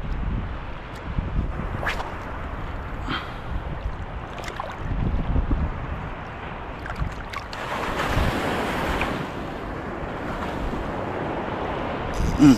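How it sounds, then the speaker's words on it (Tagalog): Ocean waves wash and slap around a small fishing boat at sea, a steady rushing surge with wind buffeting the microphone and a swell that grows louder midway. "Grabe yung alon ah."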